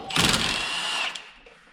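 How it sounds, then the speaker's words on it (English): A power tool whirs steadily for about a second while undoing suspension bolts on a 1979 Trans Am during a suspension install, starting with a loud burst and then trailing off. "We need to undo the bolts here."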